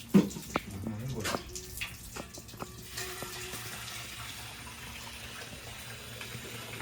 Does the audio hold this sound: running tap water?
yes